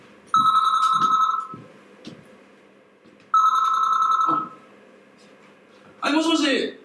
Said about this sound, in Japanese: はい、もしもし、かなちゃん。 あ、熊本の実家からです